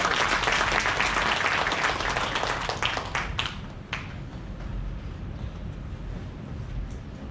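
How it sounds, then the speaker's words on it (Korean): Applause from a civic meeting audience for four department heads at a Hwaseong city regional residents' meeting, dense and steady at first, then thinning out and fading to scattered claps and room noise. "우리 네 분 고생하시는 우리 이거 네 분 그 부서장님께 큰 박수 한번 부탁드리겠습니다"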